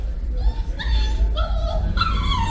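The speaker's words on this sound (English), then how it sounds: "That's a dog whining." Dog whining sound effect: a series of high, wavering whimpers and yips in several short bursts over a constant low background hum.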